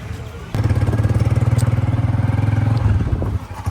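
A motorcycle engine starts up close by and runs with a loud, rapid, even throb for a few seconds before dropping off, with outdoor background noise at a wedding gathering.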